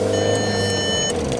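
Steady warning chime from an MK4 Golf on the move, a high repeating beep holding for over a second above the low rumble of road and engine noise inside the cabin.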